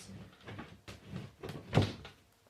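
An IKEA drawer slides and bumps shut in a series of dull wooden knocks and rattles, building to one louder thud before fading, with no talking.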